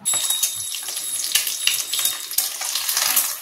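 Eggs fry in hot oil for an egg curry, a steady close sizzle with bursts of crackling and spattering throughout.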